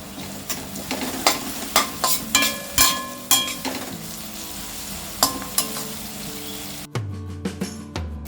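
Chopped onion and green chillies fry in a pan for a fenugreek and tomato curry: a busy sizzle broken by frequent clattering stir strokes, close up, then quieter toward the end.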